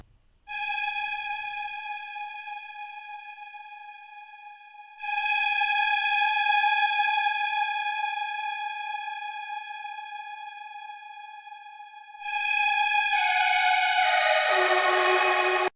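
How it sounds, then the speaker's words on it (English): A lush, spacey synth lead preset called Distance, built on a generative wavetable, plays three long sustained bright chords with clean tails, alone and fairly loud, with the final one dissolving into a shimmering, falling flourish. "I also added this very lush and spacey lead for the transitions"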